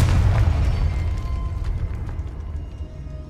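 A Confringo blasting spell explodes in the wizarding game Hogwarts Legacy, a deep booming blast that rumbles and fades over a few seconds.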